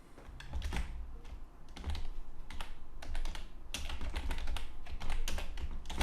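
Fingers type on a computer keyboard in quick close bursts of crisp clicks, with short pauses between runs of keystrokes and no talking.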